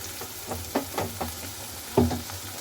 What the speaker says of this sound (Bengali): এবার মাটনটা দিয়ে দেবো